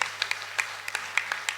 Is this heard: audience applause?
yes